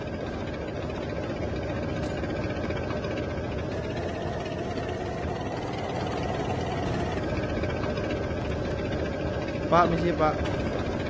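A tank engine in the Call of Duty Mobile video game rumbles as a steady, droning low hum through the whole stretch, with brief clatter near the end, while someone talks over it.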